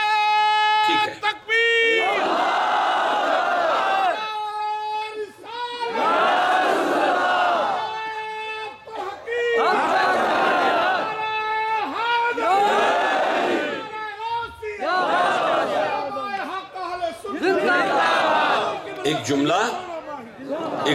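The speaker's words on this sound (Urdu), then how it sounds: "کھڑے ہو کے ادھر منہ کر کے نعرہ سنائیں گے" A large gathering at a religious sermon chants a slogan in unison, loud rhythmic shouts repeated about seven times, answering a leading voice that calls out between each response.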